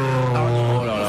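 A voice imitating an approaching car, a short, steady droning hum held for about a second, loud and close.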